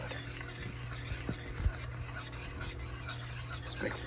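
A spoon scrapes and rubs steadily against a pan as Dijon mustard is stirred into a sauce, giving a continuous rasping texture with a few slightly louder knocks, close by.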